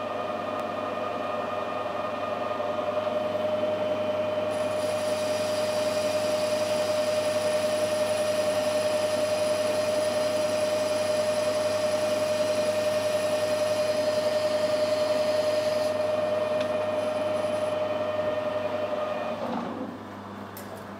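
A metalworking machine takes a half-thousandth cut on metal: a steady, loud mechanical hum with a thin, sustained high whine that stops near the end as the noise drops.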